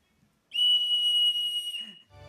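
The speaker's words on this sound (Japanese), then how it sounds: "続いて2つ目はホイッスル。" A shrill emergency whistle for signalling one's location in a disaster gives a single loud, steady blast of about a second and a half, then trails off into a brief, softer tone.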